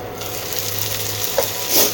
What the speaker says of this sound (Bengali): এ দেখো সবজিটাও মোটামুটি ফ্রাই হয়ে গেছে